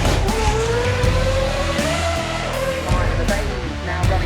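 A Ford car launches at the Goodwood Festival of Speed with a loud, steady engine roar and a hint of tire squeal, heard up close from the trackside.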